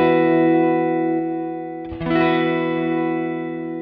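An electric guitar played through a Peace Hill FX ODS tube preamp with the deep switch engaged rings out in a sustained, overdriven chord, which fades and is then struck again, thick and ringing, with no talk.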